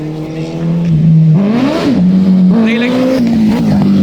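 A superbike engine, a Duke 390 or Hayabusa, revs hard during a wheelie on a Sunday group ride, with a loud, close, rising and falling engine whine under brief talk.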